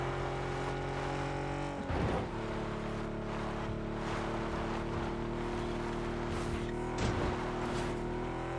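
A vehicle in the PUBG battle-royale game tilts up onto two wheels, its engine droning steadily at a loud, even pitch, with brief rough bumps breaking through twice.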